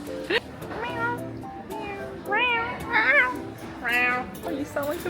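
A person imitates a cat with a series of loud, drawn-out meows, several rising and falling cries one after another, close and bright, with brief talking mixed in.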